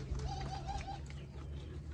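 Soft pigeon cooing nearby, a few low rolling coos over a quiet background hum, among miniature bird houses kept with chickens.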